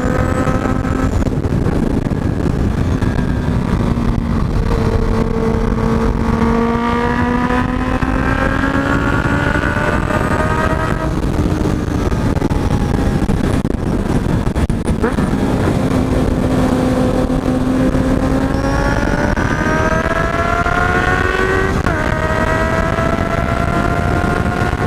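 A Honda CB650F motorcycle rides a winding mountain road through tight curves, its loud engine note repeatedly rising and falling with the throttle. Someone talks over the engine throughout.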